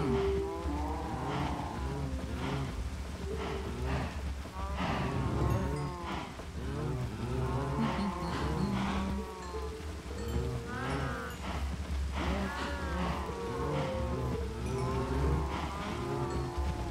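Repeated cow moos from Minecraft, several animals lowing in overlapping calls over a steady game background hum, fairly loud and continuous with no talking.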